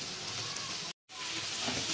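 Potatoes and bitter gourd fry together in a hot pan, giving a close, steady sizzle that breaks off for a brief silent gap midway before resuming.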